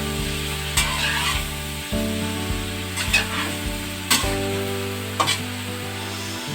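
Ingredients for dinuguan with pork innards in coconut milk sizzle in a hot pan, with a steady fry broken by several sharp scrapes and clacks of a utensil stirring. No one speaks.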